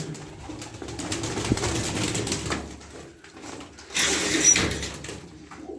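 Erzurum milk-white play pigeons in a loft, soft low cooing and shuffling with rustling and a louder burst of wing or movement noise near the end.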